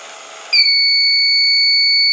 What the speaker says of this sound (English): the vehicle is stopped and buzzer start buzzing